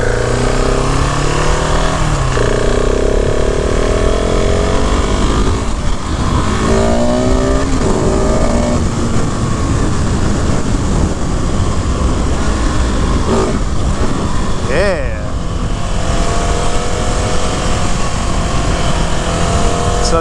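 A 2020 KTM 690 SMC R motorcycle engine runs loudly throughout a ride, with rising and falling revs, gear changes and constant wind and road roar close to the rider.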